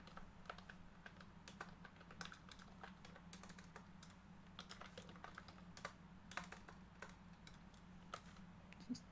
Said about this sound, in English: keyboard is not designed to be typed on at this angle